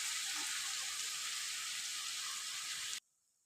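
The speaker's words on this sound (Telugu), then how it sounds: "ఇప్పుడు ఇది ఇంకొంచెం సేపు మనము ఆయిల్లో అయితే ఫ్రై చేసుకోవాలి" Cabbage and potato pieces fry in oil under a lid, giving a steady bright sizzle that runs continuously for about three seconds and then stops abruptly.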